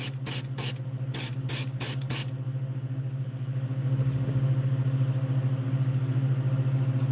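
An airbrush sprays paint onto fishing lures in a shop in Harrisburg, first in six short hissing bursts, then in a steadier hiss over the drone of a running compressor, loud and close.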